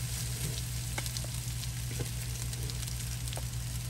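Rice poured into a hot oiled pan for a Sunday dinner sizzles and fries steadily, a close, continuous crackle with faint stirring scrapes and a low steady hum beneath, no talking.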